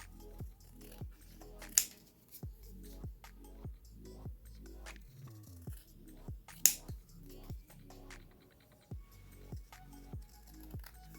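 Scissors trimming magazine paper, a regular series of crisp, close snips at about one per second, each a short sharp cut, with a couple of brighter clicks from the blades and no talking.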